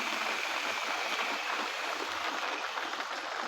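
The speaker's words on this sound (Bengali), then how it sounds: "এরপর আমরা মশলা বাটার যে জলটা আছে সেটা দিয়ে দেব" Spice-grinding water poured into a pot of mutton curry gives a steady, rushing stream-like splash, moderately loud and unbroken for several seconds, with no talking.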